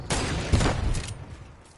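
Gunfire in a video game squad match, a burst of rapid shots and booms close by that quickly fades into a dwindling rumble.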